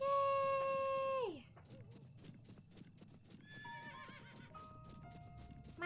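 Horse neighing loudly in The Legend of Zelda: Breath of the Wild, a long bright whinny up front, followed by a steady run of hoofbeats clip-clopping along with quieter whinnies and faint talk over them.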